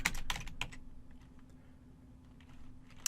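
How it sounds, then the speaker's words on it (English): Quick bursts of keystrokes on a computer keyboard as a command is entered in a terminal, close and fairly quiet, with a clustered run of clicks at the start and a few scattered taps afterward. "Type the command dbinsert"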